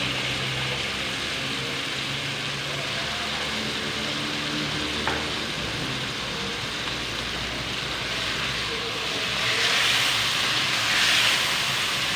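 Chicken pieces fry in ginger garlic paste in a hot pan for aloo palak chicken salan, giving a loud, steady, close sizzle throughout, with one brief metallic clink of stirring partway and a slight surge of hissing near the end.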